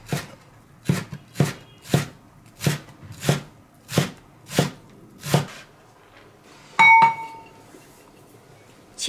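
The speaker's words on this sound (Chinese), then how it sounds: "萝卜切碎" Knife chopping radish into small pieces on a board, about nine steady, evenly spaced thuds close by, then a brief clink of metal or glass.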